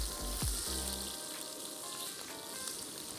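Garlic sizzles steadily in hot oil in a pan, a continuous bright crackle with a low thump near the start, close and alone without talk.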